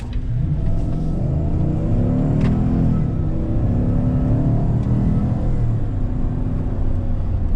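A Cadillac's engine revs and drones steadily while driving on Indian roads, a loud, continuous mid-pitched rumble with rising and falling pull throughout.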